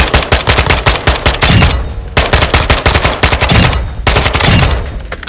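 Kastov-74u fire in Modern Warfare 2: loud, close automatic bursts with a rapid, steady rhythm, broken by two short pauses between long strings of shots.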